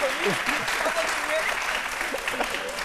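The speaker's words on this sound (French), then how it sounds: "Allez, on les applaudit très fort." Studio audience applauding on a French television midday show, a steady dense wash of clapping lasting the whole moment, with a host's voice talking over it.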